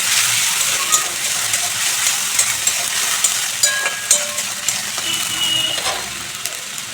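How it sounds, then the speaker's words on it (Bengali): A spice paste of garlic, onion and green chili fries in a pan with a continuous close sizzle, broken by small scraping and stirring clicks. "একটু মশলাটাকে ভালো করে কষিয়ে নেব।"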